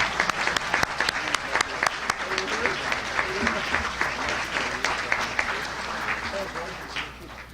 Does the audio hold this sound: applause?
yes